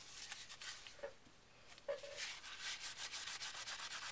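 Distress stain being rubbed off embossed paper in quick broadband scrubbing strokes, fairly close and soft, with a couple of brief squeaks partway through and steadier rubbing toward the end.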